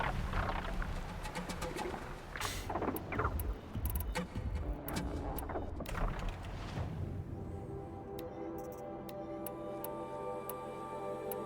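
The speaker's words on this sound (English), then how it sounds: "All those stupid birds." Birds in the video game Horizon Zero Dawn: scattered cooing calls with sharp ticking clicks over a busy ambient bed, fairly quiet and thinning toward the end.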